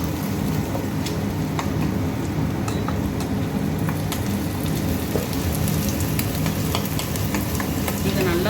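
Ginger garlic paste sizzles in a pan of liver frying in coconut oil, a loud steady crackling hiss with dense spitting pops that runs unbroken throughout, with no one speaking.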